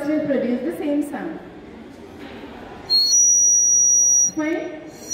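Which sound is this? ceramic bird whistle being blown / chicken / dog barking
ceramic bird whistle being blown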